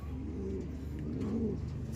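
A pigeon or dove coos in low, soft rounded notes, a couple of phrases over steady background noise with no talking.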